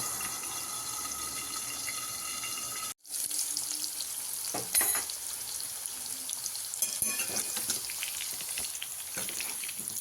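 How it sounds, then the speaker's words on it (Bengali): Potatoes fry in plenty of oil in a pan for an aloo paneer curry, a continuous crackling sizzle with a brief cut early on, then intermittent clatters and scrapes, fairly close; no voices. "তারপর আমি একটু ঢাকা চাপা দিয়ে নরম করে ফ্রাই করে নেব আলুগুলোকে"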